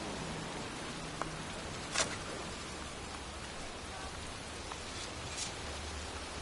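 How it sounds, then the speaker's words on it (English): Pouring rain falls over a cemetery in the video game Heavy Rain, a steady hiss of rainfall with a few faint, brief drip and splash accents. No one speaks. "And here I am, standing in a cemetery in pouring rain"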